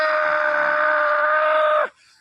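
A person's voice imitates a pig with one sustained, high-pitched squeal lasting nearly two seconds, then stops abruptly.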